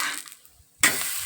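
Millet flour flatbread is pressed onto an oiled griddle, and after a near-silent pause a sudden sizzle flares up loudly and holds steady and close.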